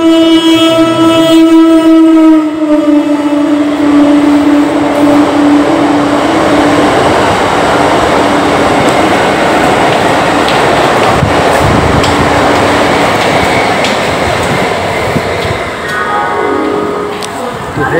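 A train pulls into Memari station, its horn sounding near and loud at first, then a long, heavy rumble of rolling wagons that fades slightly toward the end.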